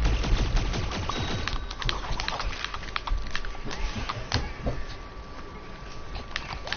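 Rapid gunfire in the video game Plants vs Zombies Garden Warfare 2: a dense, continuous stream of sharp shots and impacts, loud and close, with no speech.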